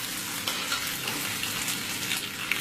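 Crushed garlic and ginger with split green chilies, curry leaves and small onions fry in hot oil for a Kerala fish curry, giving a steady, close crackling sizzle with a few sharper pops throughout, no voices.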